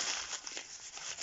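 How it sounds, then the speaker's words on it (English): Paper being crumpled by hand to add crinkles and texture, a close, soft crackling and rustling over a moment with no talking. "crumpling it back up"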